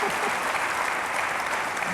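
A large indoor audience claps steadily and continuously, a dense, loud wash of applause with a faint voice underneath.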